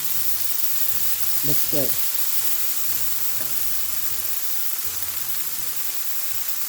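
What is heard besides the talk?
chicken frying in a pan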